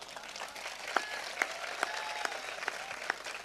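An audience claps through a Hindi comedy and poetry show, a sustained wash of applause with a few sharper, louder claps standing out at regular intervals.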